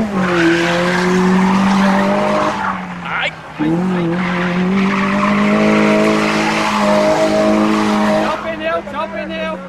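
A car whips through handbrake spins at a street meet in São Paulo, its tires squealing loudly and continuously while the engine roars, with a brief lull midway and a crowd shouting over it.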